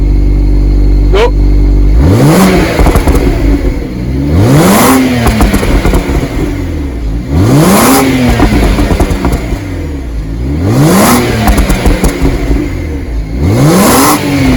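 A stock-exhaust BMW 535i with the N54 engine revs up repeatedly, four or five loud rising-and-falling pulls about every three seconds with a steady idle between, close and continuous with no talk.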